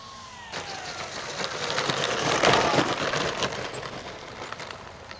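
Avios Kingtwin 1700 twin-engine RC model airplane flying overhead, its electric motors whining steadily and swelling to a peak as it passes near, then fading slightly, with a wind-buffeted outdoor background and no speech.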